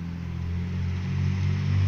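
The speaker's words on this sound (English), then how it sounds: "I miss cars driving by!" A car passes outside, a low steady engine rumble swelling slightly as it nears, fairly faint and alone.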